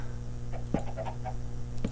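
Chicken clucking inside a blocky survival video game, a couple of short clucks over a steady game background hum, with no talking.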